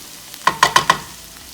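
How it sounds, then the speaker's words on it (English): Vegetables, onions among them, being stirred in a pan for an omelette, heard as four quick, close scraping and clattering strokes in a row before the sound settles to a quiet background. "Gonna saute this up."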